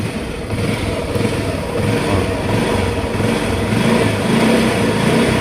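A motorcycle engine runs loudly and close by, a steady mid-pitched rumble with a rapid pulsing beat and slight swells in revs, with no speech over it.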